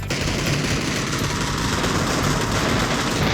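Gunfire from PUBG rattles in a loud, continuous automatic stream that fills the whole stretch without a break, with no talking over it.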